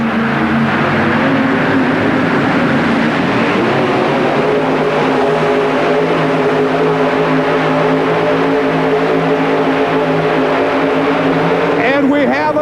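A powerful 4WD pulling truck engine roars steadily and loudly throughout, straining under load at an indoor truck pull in the Pontiac Silverdome, 1991, with a crowd or announcer faintly present beneath the din.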